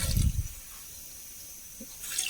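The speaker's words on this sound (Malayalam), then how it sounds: "അതിലേക്ക് കുറച്ച് വെള്ളം ഒഴിച്ചു കൊടുക്കാം ആദ്യം" Water is poured into a pot of small taro for curry, a short splashing burst at the start and another toward the end, with a quiet pause between.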